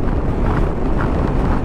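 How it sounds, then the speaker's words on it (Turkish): Strong wind buffets loudly and constantly while riding a Yamaha XMAX scooter in Istanbul, a deep rumbling roar with no talking. "İnanılmaz bir de rüzgar var havada."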